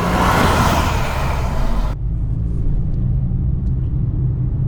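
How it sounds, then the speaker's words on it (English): A Tata Altroz iTurbo Plus Racer hatchback drives down a city back road, its low road rumble and engine hum steady throughout, with a loud wind-like rush in the first seconds that drops away abruptly. "taking the Altroz iTurbo Plus Racer down a city back road."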